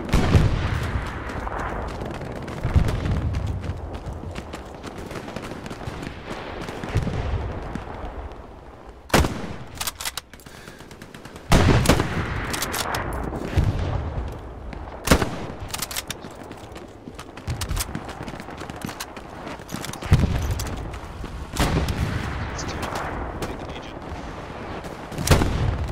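Tank cannon fire and battle noise in a video game: heavy booms and sharp shots repeat irregularly over a dense, loud bed of combat sound, with several abrupt blasts standing out.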